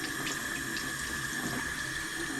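Water runs steadily from a shower head, a continuous, even hiss and splatter at moderate distance with no voices.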